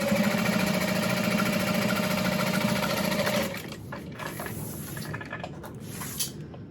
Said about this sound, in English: I'm going to top stitch on the upper lining panel